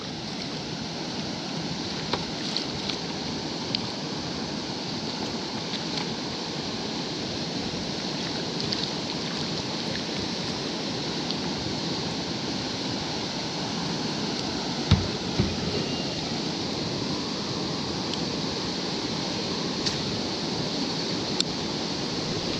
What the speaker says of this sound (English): Water is choppy today.